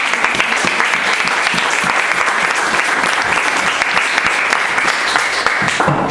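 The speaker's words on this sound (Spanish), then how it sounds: "Denle un aplauso al Señor, hermano." A church congregation claps vigorously in a dense, continuous burst of applause lasting several seconds, loud and close.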